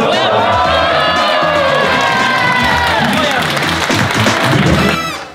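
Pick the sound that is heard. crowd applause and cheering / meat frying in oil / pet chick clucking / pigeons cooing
crowd applause and cheering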